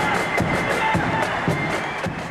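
Rally crowd at a Sinn Féin Ard Fheis applauding and cheering, a dense steady wash of clapping with rhythmic swells roughly every half second, loud and close throughout.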